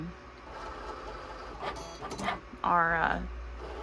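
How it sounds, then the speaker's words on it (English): A Cricut cutting machine starts up to cut permanent vinyl, whirring and buzzing in short motorized bursts that swell into a stepped, grinding drone while a person talks. "we're going to go ahead and hit the Cricut symbol. And it's going to start making our"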